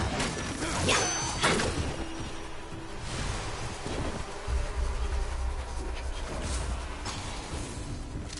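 A swarm of bees in the video game Remnant: From the Ashes, a dense, steady buzzing drone filling the scene, with wind-like rushing and a few clattering impacts mixed in.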